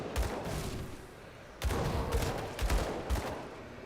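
Flashbang blasts from the video game Grim Dawn, a cluster of sharp explosive bursts, several hard hits in quick succession over a low rumbling background.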